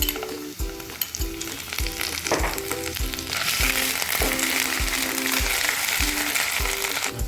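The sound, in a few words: garlic and ginger paste frying in a pan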